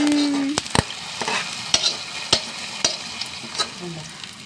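Fried onion tempering poured into an egg curry, a soft steady sizzle broken by sharp metallic clicks and knocks of a spoon against the pot.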